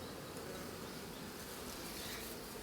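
Dense swarm of honey bees buzzing around a hive in an apiary yard, a continuous close hum with no breaks and no voices.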